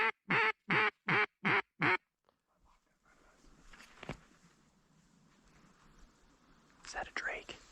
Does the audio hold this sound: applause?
no